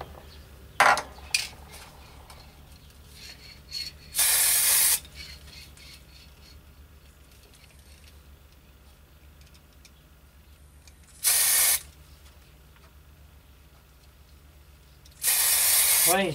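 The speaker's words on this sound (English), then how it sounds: "Right, a vicious spray coming out." Aerosol can spraying green gloss paint onto a Matchbox Y-14 Duke of Connaught model locomotive, three loud hissing bursts of a second or so each, separated by quiet handling noises.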